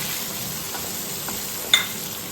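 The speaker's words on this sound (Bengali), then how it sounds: "2 মিনিট দিয়ে ভালো করে নাড়ছি মশলাটা" Soft scraping of a spoon stirring spices and fried brinjal in a hot pan over a low, steady sizzle, with one brief clink near the end.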